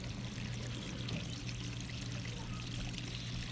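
Water runs steadily through a siphon tube into a cup, a soft continuous pouring trickle with a low background hum, fairly quiet and uninterrupted.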